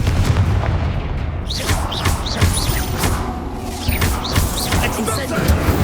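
Confringo and Bombarda spell blasts in Hogwarts Legacy, a rapid series of booming impacts and crackling bursts in quick, irregular succession, loud and close, mixed with ongoing combat effects.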